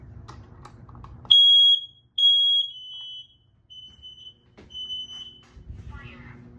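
A bedroom smoke detector is tested indoors and gives two loud, shrill beeps, then several quieter, shorter tones. Quiet background noise and faint voices are heard before and after the beeps.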